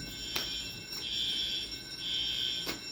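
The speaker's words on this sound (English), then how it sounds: "There's a fire alarm going off in the room next door" A fire alarm sounds from a room next door, long high electronic beeps in a regular on-off pattern, muffled and moderately faint, with soft clicks between tones.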